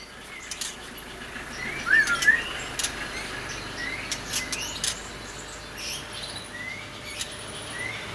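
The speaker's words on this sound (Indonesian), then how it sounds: "Burungnya sangat-sangat sehat dan sangat-sangat baik walaupun dia lagi mutasi ya" A healthy caged songbird in moult gives short high chirps and squeaky call notes, scattered and fairly faint against a quiet background hiss.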